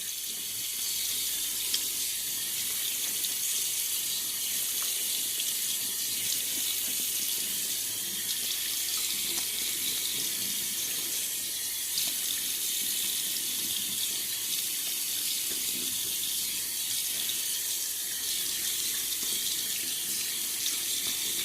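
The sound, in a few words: water running from a tap while wetting stubble for shaving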